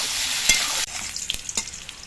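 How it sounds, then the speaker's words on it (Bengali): Pieces of taro (kochu) fry in hot oil in a pan, a bright continuous sizzle with a spatula stir, then the hiss drops and gives way to scattered scrapes and clicks of the utensil. "এবার কচুগুলোকে একটু ভেজে নেব।"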